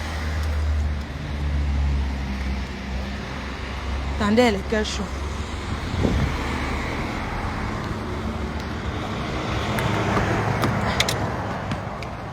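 A borrowed car heard from inside or nearby, a steady low engine and road rumble running throughout, with people talking over it in French.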